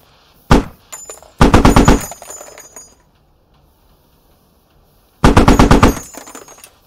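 A .50 caliber machine gun firing in the Steel Division video game: a short burst, then a longer rapid burst, a pause, and another sustained burst, loud and close.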